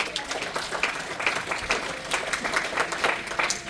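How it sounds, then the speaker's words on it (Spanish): A church congregation applauds during a Spanish-language sermon, a steady dense clapping that fills the room evenly for several seconds with some crowd noise mixed in. "dale un fuerte aplauso"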